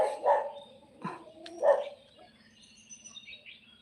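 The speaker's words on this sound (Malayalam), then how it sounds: "അവിടെ രണ്ട് മൂന്ന് പട്ടിയുണ്ട് അവരാണ് കുരക്കുന്നത്" Two or three dogs bark a few times at a distance in the morning, in short bursts with pauses between, while birds chirp softly in the background.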